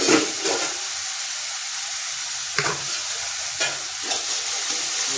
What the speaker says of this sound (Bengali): রসুন পেস্ট 1 চামচ, সুন্দর করে লাল লাল করে ভেজে নিয়ে দেবো